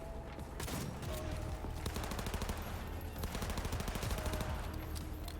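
Rapid smart-bullet gunfire in Cyberpunk 2077, dense bursts of automatic shots rattling almost continuously, with sharp individual cracks through a sustained barrage.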